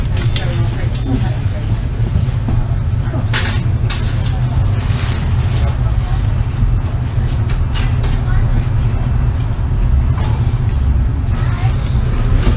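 Interior of a busy bus in motion, a loud constant low engine rumble with passing clatter and rattles, people talking faintly among the noise throughout.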